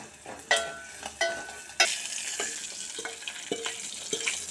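Tempering spices frying in hot ghee for foxtail millet pongal, with cumin, black pepper, ginger, green chili, curry leaves and asafoetida: a soft sizzle broken by sharp clinks and scrapes of stirring.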